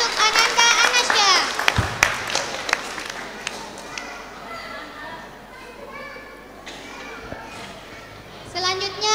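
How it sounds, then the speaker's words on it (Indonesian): Audience applause at an Islamic boarding school student exam event, clapping heard under children's chatter and voices, moderate and mixed with crowd noise throughout. "Berikan tepuk tangan yang meriah untuk Ananda Anasya."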